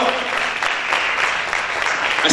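Steady, loud applause from a church congregation at a youth service, continuous dense clapping throughout with no pauses.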